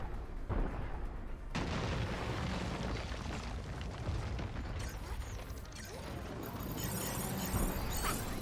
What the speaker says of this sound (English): And there goes the homing missiles.